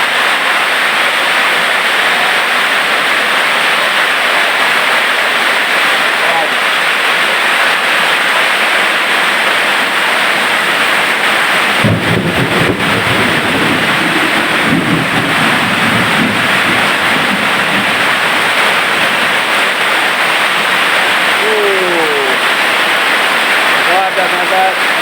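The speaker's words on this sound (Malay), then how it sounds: "Hujan sikit pun banjir." Heavy rain pours down steadily around a house during a flood, a dense loud roar of falling water and rushing runoff lasting throughout, with a voice speaking over it.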